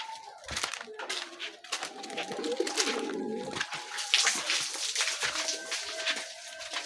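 Pigeons coo and flutter close by as a sack of cattle bran is brought in for a pet cow, with soft wing flaps and rustling under scattered bird calls and no speech.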